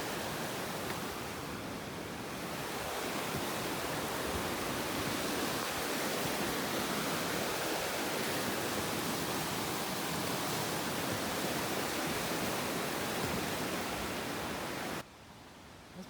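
Mural Creek rushes loudly and steadily in the backcountry of the North Boundary Trail, a dense, continuous roar of flowing water close by that cuts off abruptly at the end.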